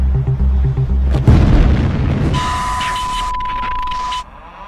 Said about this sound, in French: provoque l'explosion du réacteur numéro 1.